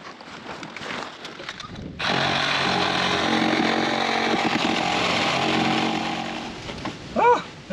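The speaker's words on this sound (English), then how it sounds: "we'll cut the steering wheel" A power tool cuts through a car steering wheel during a crash test dummy rescue, starting abruptly as a loud, steady whining buzz that runs for about five seconds before easing off, with faint activity around it.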